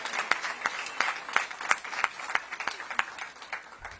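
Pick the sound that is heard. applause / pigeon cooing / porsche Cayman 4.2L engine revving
applause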